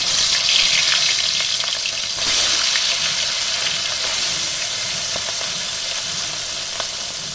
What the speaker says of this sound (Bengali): এবার মাছের মাথাটা তেলে দিয়ে দিলাম।